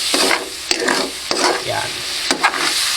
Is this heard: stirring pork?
yes